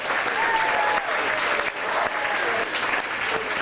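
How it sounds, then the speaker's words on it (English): Tram tour audience at Disney-MGM Studios applauding two volunteers, a steady, dense crowd applause that fills the whole stretch with only brief dips. "Let's give them both a thunderous round of applause."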